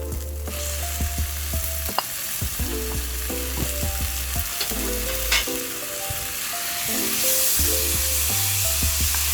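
Ground pork hits a hot pan and sizzles loudly and continuously, with clinks and scrapes of stirring throughout and no talking.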